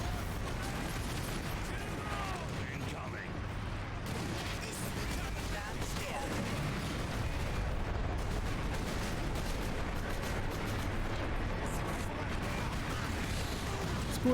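Incoming rocket launcher fire in a Warhammer 40k battle game, a steady dense barrage of booms and blasts rumbling continuously through the whole stretch, with battle noise layered thickly and no clear pauses.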